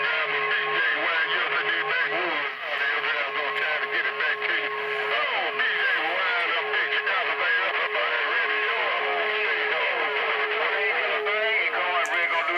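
CB radio reception with the noise limiter off, full of hissing static and warbling, distorted chatter, steady and continuous for several seconds.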